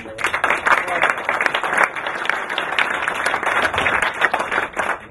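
An audience at the DebRA City Sporting Challenge charity event gives a sustained round of applause, dense steady clapping filling the room for the whole stretch, with a few voices mixed in.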